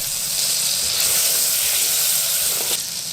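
Butter melting in a pot for white sauce gives a steady, bright hiss and sizzle, close and constant with no break throughout.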